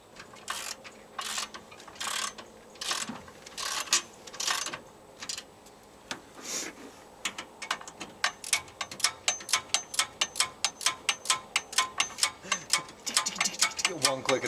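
A ratchet wrench clicks in a steady, close, even rhythm as someone tightens the motor mount bolts on a Suzuki Samurai. The clicking starts out sparse and grows rapid and regular, and a voice talks over the early part.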